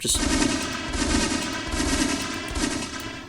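Rapid repeated bursts of gunfire from a pistol in a video game, with several quick volleys in close succession, loud and continuous across the moment.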